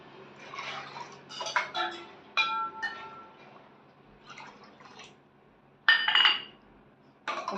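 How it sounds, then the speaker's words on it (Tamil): One cup of jaggery dropped into a bowl in a home kitchen, with close clinks of a utensil against the dish and a few wet splashy bursts as water goes in. "இப்போ இந்த 1 கப்பு வெல்லத்தை இந்த கிண்ணத்தில் போட்டுக்கிறேன்."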